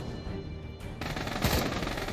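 Bursts of rapid gunfire crackle continuously in the VR game Pavlov, with a louder, denser volley near the middle, all without any speech.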